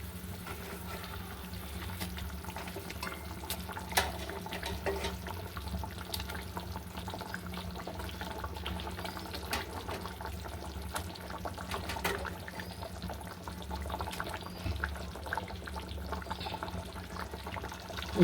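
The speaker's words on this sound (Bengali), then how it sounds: "এবার দেখুন ঝোলটা ফুটে উঠেছে। এবার মাছগুলো দিয়ে দেবো।" Pieces of rui fish go into a boiling curry gravy for a Bengali kalia. A steady, soft bubbling and sizzling of liquid runs throughout, with a few brief clinks and splashes and no talking.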